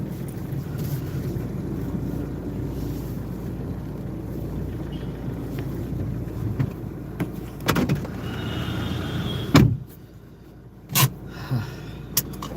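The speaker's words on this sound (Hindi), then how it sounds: "एक सेकंड में गाड़ी पार्क कर लूं।" A car being parked: steady low engine rumble and road noise with a few sharp clunks near the end, close by and alone.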